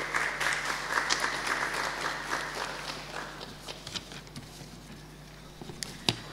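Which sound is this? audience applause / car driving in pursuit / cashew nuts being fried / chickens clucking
audience applause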